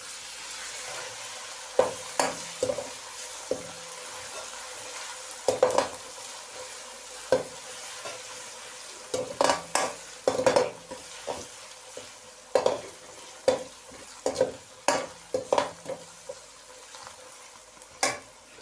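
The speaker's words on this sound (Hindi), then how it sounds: "पिसी हुई लहसुन अदरक शामिल करेंगे इसके अंदर" Ground garlic and ginger frying in a pot while a spoon stirs it: a soft continuous sizzle broken by irregular scraping clinks, close up, with no talk.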